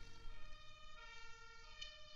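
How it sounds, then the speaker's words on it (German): An ambulance siren just outside a front door drones in held, shifting tones, faint and somewhat muffled, as if heard from indoors. "ich hoffe, man hört jetzt hier diesen Krankenwagen neben meiner, vor meiner Haustür nicht"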